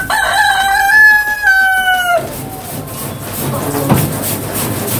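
A rooster crows loudly and close among DeKalb Brown and Rhode Island Red chickens in their coop, one long drawn-out call followed by softer farmyard clucking and background noise.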